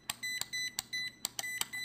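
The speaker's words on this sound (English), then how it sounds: "constant beeping when you switch ranges annoying as hell" An ISO-TECH IDM 63N multimeter beeps as its range switch is turned: a quick series of short, bright electronic tones, each with a sharp click at its start, about eight beeps in under two seconds, close and clear.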